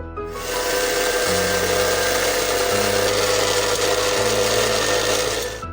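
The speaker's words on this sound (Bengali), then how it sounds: "এটাকে আমি এখন ব্লেন্ড করে নেব।" A kitchen blender whirs steadily as it blends Bournvita powder, one loud continuous motor drone with shifting pitch steps as the load changes, running for several seconds before tapering at the end.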